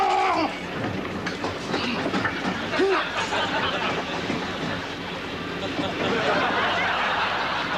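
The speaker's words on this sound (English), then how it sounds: "Even when the train is crowded, Nigel's not too proud to jostle with the best of them for that elusive seat." A crowded commuter train rumbles steadily with a broad, constant roar and rattling, while people murmur and laugh faintly in the busy carriage.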